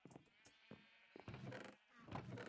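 Sheep bleating in a Minecraft sheep factory, a few short nasal bleats spaced across the moment, moderately loud amid faint game background.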